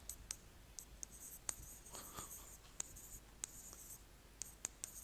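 Pen writing on paper during an AC circuit lesson, a steady soft scratching with sharp clicks and taps from the pen, close and fairly quiet, with no talking.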